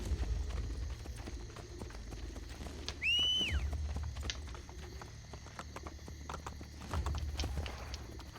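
Horse hooves clip-clop steadily in Assassin's Creed Brotherhood, a soft rhythmic trot under game ambience with a brief high whinny-like sweep midway.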